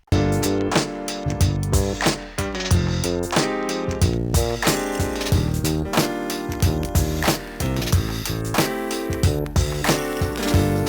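A sample taken from a 78 RPM record is played back through an SP1200-style resampler: a dense, loud stretch of music with thumping low beats and busy layered tones running continuously for about ten seconds, with no talking.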